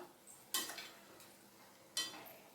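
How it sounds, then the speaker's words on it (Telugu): A spoon stirs spinach and tomato curry in a pan, two sharp scraping strokes against the metal over a faint low sizzle, close and otherwise quiet. "కలుపుదాం"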